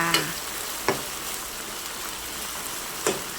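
Bite-size chicken breast pieces sizzle steadily in a hot pan for garlic chicken, with a few sharp clicks from stirring or turning scattered through the frying. No voices.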